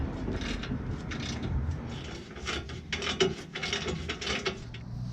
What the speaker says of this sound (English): I'm going to use my socket to go ahead and tighten those bolts back up.